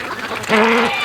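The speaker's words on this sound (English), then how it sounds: "Just listen to these ducks right beside me." Ducks quack close by, with a short nasal call rising clearly above quiet background noise near the middle of the moment.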